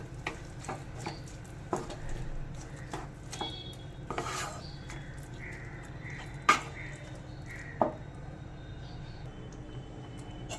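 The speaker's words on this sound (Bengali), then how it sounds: "এবার ভালো করে নেড়ে সব মিশিয়ে নেব।" Mutton mince with chopped tomato, ginger paste and garlic paste being stirred in a pan, a quiet steady sizzle under scattered scraping strokes and a couple of sharp spoon clinks against the metal.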